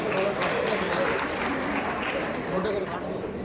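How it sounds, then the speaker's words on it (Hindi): Loud, dense audience applause fills a crowded hall welcoming a speaker to a social organizations' joint-front convention on saving the constitution and democracy, steady throughout with crowd noise mixed in. "अजय देशमुख, जोरदार ताली बजाकर का स्वागत"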